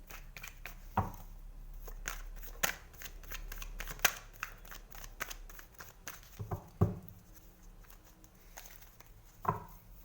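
Tarot cards shuffled by hand at close range, giving a quick run of crisp riffling slaps and clicks with brief pauses between bursts, and no talking.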